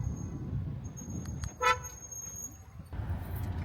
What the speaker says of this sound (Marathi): बघा ना की कोण हॉर्न देतय म्हणून